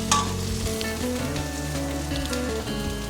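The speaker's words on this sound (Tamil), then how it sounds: "எண்ணெய் காஞ்சோடனே ஃபஸ்ட்டு நம்ம பிரண்டை அரைச்சி வச்சுருக்கோம் இல்லையா, அதை போட்டுருவோம்" Ground pirandai (veldt grape) paste frying in hot oil for pickle, a steady close sizzle and crackle throughout with a faint stir near the start.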